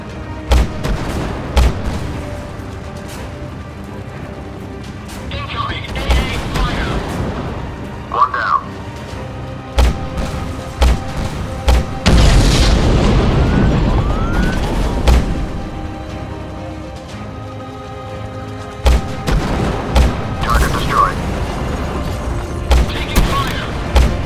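Drone strike on an enemy base in the video game Drone 2 Air Assault: repeated heavy booms and blasts, some overlapping in a sustained rumble, mixed with in-game radio voices.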